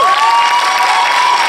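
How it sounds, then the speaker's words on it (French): Audience at a film premiere applauding and cheering the cast and crew, a dense steady roar of clapping and shouts with a whistle-like tone running through it. "je vous demande d'applaudir comme il se doit l'équipe du film"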